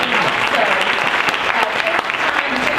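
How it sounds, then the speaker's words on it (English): Steady applause from a crowd at a women's awards event, dense clapping that holds at an even level throughout, with some voices mixed in beneath it. "I want to give all the ladies a round of applause"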